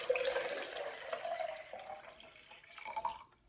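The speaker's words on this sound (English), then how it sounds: "We're going to put in a pint, which is a half a quart of water" A pint of room-temperature water pours into a Jetboil stove cup, a steady splashing stream with a rising tone as the cup fills, close and fairly quiet.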